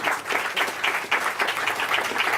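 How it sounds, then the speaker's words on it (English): Audience applause for New York Governor Hochul at a bill-signing event on child safety, a steady, moderately loud wash of clapping with faint voices underneath. "Let's give another round of applause to our great governor here."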